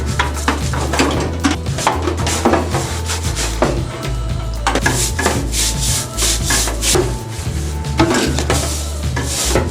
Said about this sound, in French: À l'aide de la brosse, nous allons frotter les parties